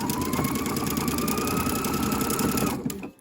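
A sewing machine running a zigzag stitch on folded underwear fabric, a fast steady mechanical chatter close by that stops abruptly near the end.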